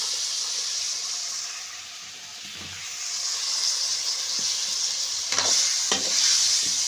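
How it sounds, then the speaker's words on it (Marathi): Ridge gourd curry with onion, coriander and homemade masala is stirred and sautéed in a kadhai over a wood-fired chulha, with a steady hissing sizzle and occasional scraping and stirring knocks. "व्यवस्थितपणे आपल्याला तो हलवून घ्यायचे आहे परतून घ्यायचे आहे"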